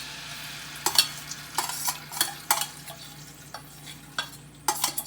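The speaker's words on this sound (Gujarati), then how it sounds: "તેલ ગરમ થઈ ગયું છે એની અંદર આપણે જે મીઠી ચટણી હતી એની અંદર જે દાબેલીનો મસાલો નાખ્યો હતો એ ઉમેરીશું" Dabeli masala and sweet chutney stirred into hot oil in a pan, with a steady low sizzle under repeated scraping and stirring strokes at a regular rhythm, close and clear, no talk.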